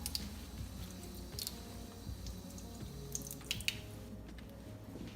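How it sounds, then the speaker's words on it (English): Water trickles and drips from a kitchen tap as a leek is rinsed at the sink, a faint, steady wet patter with no talk. "Now that my leek has been rinsed"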